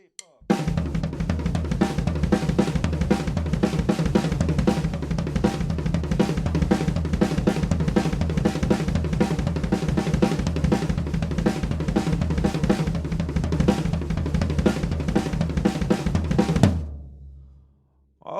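An improvised triplet drum fill plays on a full kit, with a dense, driving stream of strokes and snare drum accents for about sixteen seconds before it rings out and fades.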